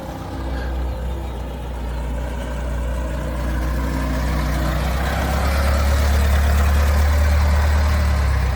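An Oldsmobile Toronado rolls up with its engine idling, a deep steady rumble that grows gradually louder and closer, ending as a strong low drone.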